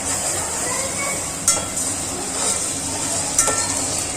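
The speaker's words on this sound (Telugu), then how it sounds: "అల్లం పేస్ట్ అనేది నూనెలో వేయించుకోవడం వల్ల పచ్చి వాసన అనేది పోయిద్ది." Ginger paste frying in oil for a goat head curry, with a steady crackling sizzle throughout and a couple of sharp spoon scrapes as it is stirred in the pan.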